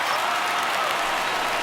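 A home-crowd roar swells in a virtual ballpark after a home run in MLB The Show 19, Rockies hosting the Phillies, a dense, steady wash of cheering and clapping, loud and unbroken, with no voices standing out.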